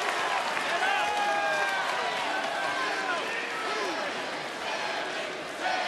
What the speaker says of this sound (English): the Sammy chants from this capacity crowd in Green Bay